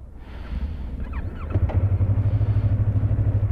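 A motorcycle engine revs and the bike shifts into gear and pulls away, a rough, pulsing close-up engine note that builds in loudness as it rides off.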